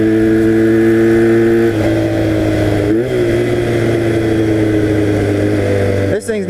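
A 1982 Honda 250cc flat track motorcycle running on a road, its engine droning steadily at part throttle with a shift in pitch partway through, loud and close, with someone talking over it.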